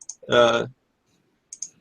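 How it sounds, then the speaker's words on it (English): Several short, sharp computer mouse clicks come near the start and again toward the end of a quiet stretch, with a brief voiced sound between them, while someone edits a 1970s-style string synthesizer module on a computer. "sorry for all the mouse clicks here"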